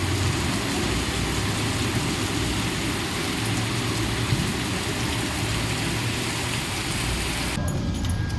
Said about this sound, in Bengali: এইভাবেই হোক বৃষ্টি